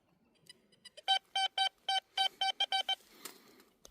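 Metal detector signals beep in a forest beside a small tree stump, a run of short, evenly spaced electronic tones that grow louder and quicker, close up, then a faint rustle follows.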